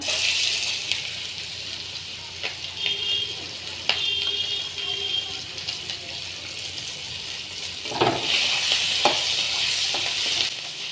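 Onions frying in hot oil with two cloves in a pan for a crab curry, a steady broadband sizzle with a few brief stirring clatters and a louder sizzling burst toward the end.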